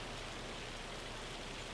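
Hail pelts down during a storm in the farming game Farming Simulator 25, beside a grain mill: a steady, faint hiss of dense hail or rain with no breaks and no voices.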